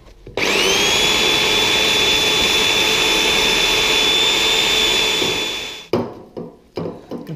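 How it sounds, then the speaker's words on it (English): An elderly Black & Decker power tool from around 1978-79 spins up and runs in a loud, steady high-pitched whine for about five seconds, then winds down, followed by a few clattering knocks. "Decided to use the elderly Black & Decker."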